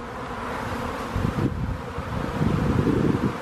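An outdoor swarm of honeybees gathering near a swarm trap gives a dense, continuous buzzing drone, fairly loud and swelling at times, mixed with wind rumble on the microphone.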